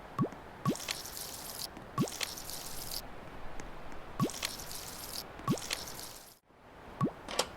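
Plants being watered in a horse roleplay video game, a repeating pattern of wet drips and squishy plops in a steady rhythm, close and moderately loud, with no talking.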